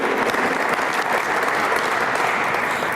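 Audience at a scholarship award ceremony applauding engineers and crew, a loud, dense, steady burst of clapping that holds throughout.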